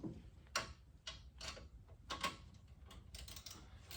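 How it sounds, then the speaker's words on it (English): Ratcheting wrench tightening a bolt while fitting a Maruyama MSD41 pump and Predator engine to a power sprayer, giving faint quick clicking bursts in short repeated runs, close and quiet. "like having a ratcheting wrench like that"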